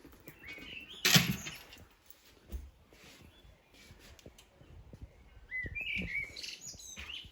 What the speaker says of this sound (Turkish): Oy bülbüllere bak sen.